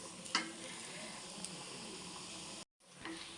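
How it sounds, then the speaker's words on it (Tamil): Dosa batter poured onto a hot dosa pan gives a steady broadband sizzle that holds for a few seconds, with a brief cut and then the frying hiss resumes. "சரி நீங்கள் தோசையை ஊற்றுவோம் அப்படின்னு சொல்லிட்டு தோசை ஊற்றுறேன்."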